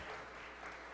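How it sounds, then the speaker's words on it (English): Brief, steady applause from an audience at a forum talk, a dense wash of many hands clapping, fairly quiet and heard without speech. "Can we clap for her, please?"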